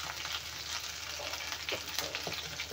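Coriander powder frying in oil for a pumpkin chutney, a dense close sizzle that runs throughout with a few soft stirring scrapes, no voices.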